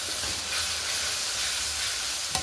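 Ginger frying with spices in oil for a large potato curry, a dense close sizzle and hiss that holds steady throughout, with a brief clink near the end.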